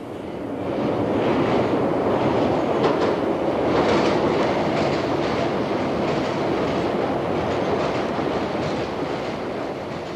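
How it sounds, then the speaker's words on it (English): A London Underground train bound for Shepherd's Bush rumbles and rattles continuously, loud and close, with rhythmic clacking and a roaring whoosh that holds steady throughout. "This is not a ghost train, but a real one going to Shepherd's Bush."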